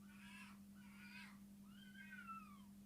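Cats fighting outdoors at night, faint and distant: drawn-out yowling caterwauls come in three separate bouts over a steady low electrical hum, with no talking.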